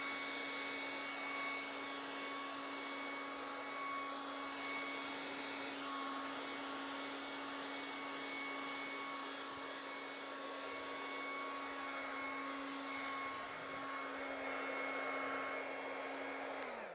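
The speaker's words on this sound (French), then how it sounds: "J'ai toujours la position froide du sèche-cheveux et je souffle doucement pour faire tous les bords" A hair dryer on its cool setting blows gently over the wet edges of a Dutch pour acrylic painting, giving a steady motor whine with a constant tonal hum that winds down briefly at the end.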